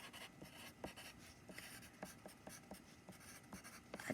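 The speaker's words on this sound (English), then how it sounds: "we're going to write our answer in a sentence" Pen or pencil writing a math word-problem answer by hand on paper, a quiet close scratching of irregular short strokes and taps alone with no talk.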